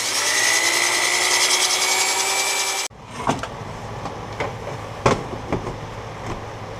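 A power sander whines steadily and loudly on a wooden bowl, then stops abruptly; afterwards come quieter scraping and knocking sounds with a few sharp taps.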